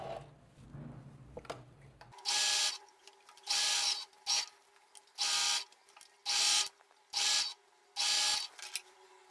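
A sewing machine stitches the cuff of a jumpsuit in short bursts, about seven loud whirring runs separated by brief pauses, after a few quiet handling sounds at the start.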